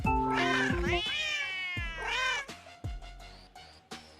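Several cats meow in succession, a loud drawn-out wail followed by shorter, rising meows and a few brief chirps, close by and with no other voices.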